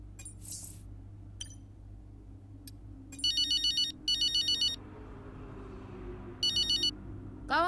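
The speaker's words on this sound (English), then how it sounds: "That's no way to answer the phone." An electronic phone ringtone from the F1 23 racing game trills in three short bursts of rapid beeping over a low steady background hum.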